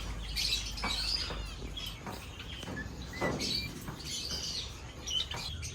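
Cockatiels in a breeder cage chirping and whistling, a busy run of short bright calls and squawks at moderate distance, with faint rustling underneath.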